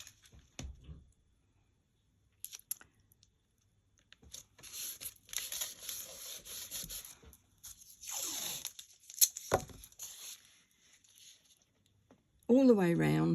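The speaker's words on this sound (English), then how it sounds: "Going to pop on some stencil tape because I need to frame." Stencil tape is pulled from a roll and pressed onto card, with short tearing rips and crinkly handling noises in bursts between quiet pauses, close and fairly soft.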